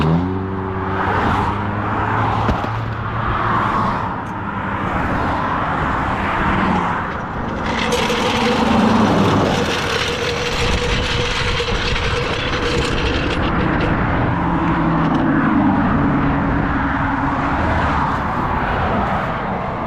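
Highway traffic streams past the roadside during an emergency tire change, with loud vehicles rushing by one after another, swelling and fading broadband whooshes over a constant road rumble.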